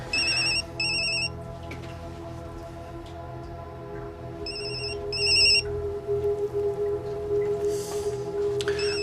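A mobile phone ringtone sounds in repeated bursts of bright electronic tones, two short pairs separated by a pause, over a low, steady background hum.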